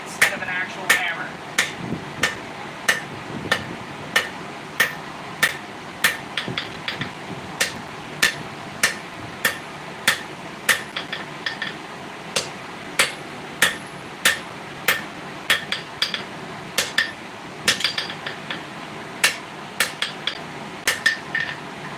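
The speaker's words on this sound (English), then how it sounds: "I grabbed my rawhide mallet instead of an actual hammer" A rawhide mallet strikes metal repeatedly in a workshop, sharp clanking blows at a steady, slightly irregular pace through the whole stretch. A voice talks in between.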